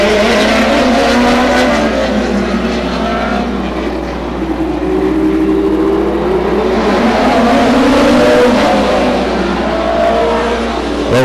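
Race cars roar around the Stockton 99 Speedway oval, a loud, continuous engine drone with rising and falling pitch as the pack passes close by, under faint commentary.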